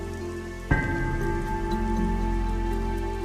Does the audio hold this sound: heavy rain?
yes